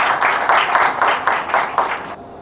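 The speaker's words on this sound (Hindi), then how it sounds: "तो एक बार राकेश सर के लिए प्लीज जोरदार तालियां।" Applause from an audience at a cancer care seminar and honours ceremony, greeting the chairman: a steady wash of clapping with rhythmic swells, fairly close, lasting about two seconds before cutting off.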